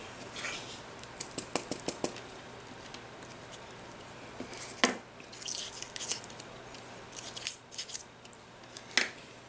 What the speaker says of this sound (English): we're just going to take our X-Acto knife and stick it in the hole, and we're just going to carve out a little hole in the center